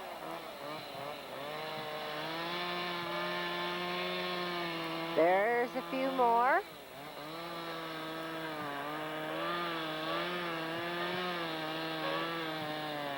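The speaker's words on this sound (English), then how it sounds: "There's someone with a chainsaw." A chainsaw cuts baled berry vines on a farm, its engine droning steadily up close, with one sharp rising rev burst midway before settling back to a rough idle, and a voice speaking briefly over it.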